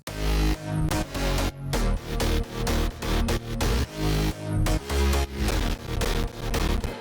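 Electronic dance drop with heavy layered drop basses pulsing together in a steady rhythmic pattern over a punchy beat, loud and continuous with brief gaps between bass hits.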